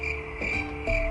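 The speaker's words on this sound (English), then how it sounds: "Yeah, it's cicada." Cicadas shrill in a steady, loud buzzing drone with pulsing tonal bands, close and continuous, with no voices.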